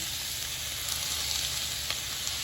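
Salmon glaze and vegetable noodle stir fry sizzles steadily in a hot pan, a constant close hissing fry with faint crackles and no voices.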